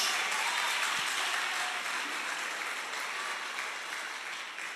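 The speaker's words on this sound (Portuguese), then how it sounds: "Aplauda a" A church congregation applauding during a Portuguese-language sermon by Pastor Kleofas: thick, continuous clapping from many people, loud and even throughout with no break.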